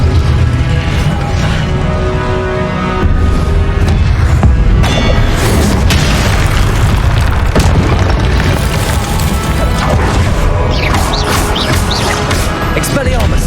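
Confringo blasting spells explode in Hogwarts Legacy, heavy booms landing within a dense, continuous wash of combat noise, with a voice speaking over it.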